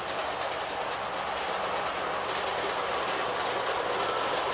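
LGB model train running on its track, a steady close rolling clatter of wheels over rail joints with a faint mechanical hum, continuous and even.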